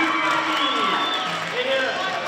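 A crowd roars and cheers at a wrestling match, a continuous loud wash of voices with whoops rising over it, heard close and filling the whole moment.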